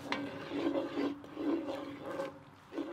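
A spoon stirs Worcestershire sauce through a barbecue shrimp sauce in a pan, making continuous soft scraping and swirling sounds at a steady, moderate level with no voices.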